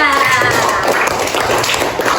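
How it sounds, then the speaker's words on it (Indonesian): Primary-school students in a classroom clap for a group of classmates, a steady patter of many hands with voices mixed in throughout. "beri tepuk tangan dulu untuk kelompok 3"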